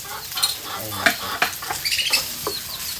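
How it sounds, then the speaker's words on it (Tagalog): Garlic fried rice stir-fried in a pan, with spatula scrapes and clinks over a light sizzle, irregular and close. "Isangag lang tayo. Magpa-fried rice tayo."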